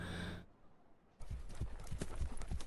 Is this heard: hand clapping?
no